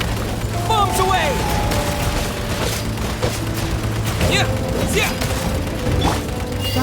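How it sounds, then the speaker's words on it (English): Bombs explode in the video game Genshin Impact, a dense run of booms and crackling blasts layered with game effects and a voice, loud and continuous throughout. "Bombs away!"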